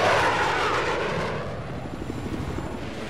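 An aircraft roars close and loud in the video game Battlefield 4, a broad engine rush that sweeps past and settles into a steady droning hum, with no talking over it.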